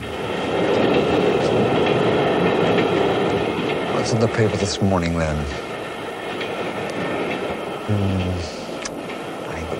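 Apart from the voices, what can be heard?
bankers' train running non-stop from Potsdam into Berlin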